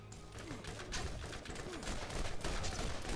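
Pistol gunfire in the Borderlands game, a quick series of close, rapid shots repeating over continuous game combat noise, with faint talk underneath.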